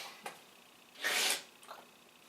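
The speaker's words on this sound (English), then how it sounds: "Sorry. Had to sneeze." A Skyrim character lets out a single short, breathy sneeze, quiet and close, flanked by faint sniffs and small breaths.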